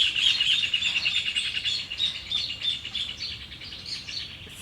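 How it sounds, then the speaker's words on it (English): A dense chorus of many birds chirping and tweeting outdoors, overlapping calls continuing without pause at a fairly loud, close level. "So many birds."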